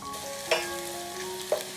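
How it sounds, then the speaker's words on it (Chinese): A soft, steady sizzle of chopped dried radish frying in oil, with two brief sharp clinks of a utensil against the pan. "这是我提前剁好的萝卜干，先用油给它爆香"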